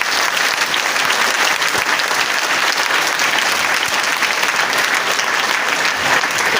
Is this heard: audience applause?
yes